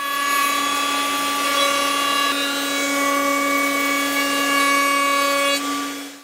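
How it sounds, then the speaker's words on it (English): A router fitted with a round-over cutter shapes the edges of a wooden coffee table, giving a loud, steady high-pitched whine with a constant tone that holds for several seconds before winding down. "I've got a rounding over cutter in here."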